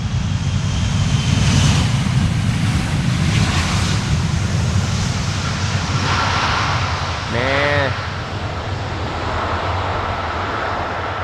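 An airliner landing in a crosswind at Amsterdam Schiphol roars with a loud, sustained engine rumble from reverse thrust that slowly eases, wind buffeting over it and a brief voice near the end.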